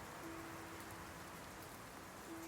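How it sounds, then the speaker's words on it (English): Rain trickles and patters on wide, curved windows at night, a steady soft hiss with no voices. "Rain trickles down the wide, curved windows, each drop catching flecks of light"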